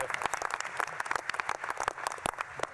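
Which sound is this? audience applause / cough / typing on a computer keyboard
audience applause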